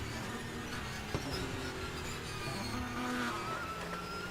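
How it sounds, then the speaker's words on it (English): A race car struggling on a wet Daytona track during a six-hour race, tyres squealing and skidding over a muffled engine drone, faint and distant with a brief knock partway through. "I can hear a car struggling, and that is Royale"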